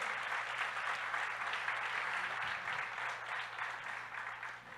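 Sustained audience applause fills the whole stretch for guests from Campinas at a pastors' church gathering, a dense, steady wash of many hands clapping with no break.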